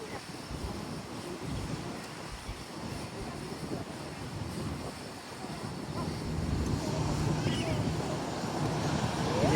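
A JetBlue Airbus A320 coming in to land at San Juan's SJU airport, a broad roaring jet rumble with wind noise that grows steadily louder toward the end as the aircraft approaches.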